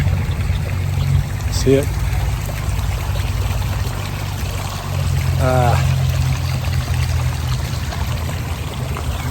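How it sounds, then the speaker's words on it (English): Small stream trickling down into a little pond at Blue Mesa Recreational Area, Colorado. Water rushes in a steady, close wash, with someone speaking briefly over it. "Little stream rolling down into it."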